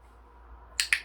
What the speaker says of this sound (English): I'm just clicking for interaction with the box